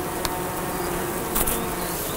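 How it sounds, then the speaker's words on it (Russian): Honeybees humming at beehives at a remote taiga homestead, a steady dense buzz that fills the whole stretch, close and even, with a few individual insects flying past. "Я слышу прям этот гул пчелиный."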